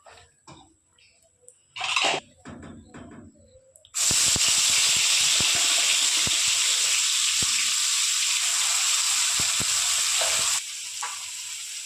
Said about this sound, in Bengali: তা সেই পেস্টটা এখন আমি দিয়ে দেবো তেলে